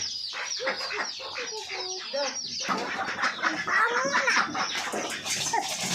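Four domestic ducks feed close by, giving a busy stream of nasal quacks and chattering calls, with louder overlapping calling in the second half.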